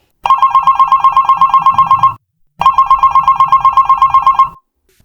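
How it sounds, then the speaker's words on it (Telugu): A home telephone rings twice, each ring a long burst of rapid trilling bell tones separated by a short pause, loud and close. "ఇంట్లోని ఫోన్ మోగడంతో"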